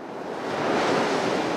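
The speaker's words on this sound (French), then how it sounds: "avec des grosses vagues comme ça, pareil." Big waves break on the sea shore of the Morbihan archipelago in Brittany, a steady broad roar of surf that swells slightly and holds, mixed with wind buffeting the microphone, no voices.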